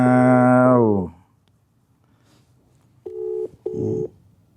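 Telephone call tones, a long synthetic tone fading out, then after a pause two short tonal beeps close together, clear and alone.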